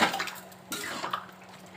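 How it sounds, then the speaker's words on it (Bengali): Hot water poured into a pan of cooking curry, a brief rushing splash that hisses against the hot pan, close by with faint clinks. "এবারে আমি এর সঙ্গে একটু গরম জল অ্যাড করব।"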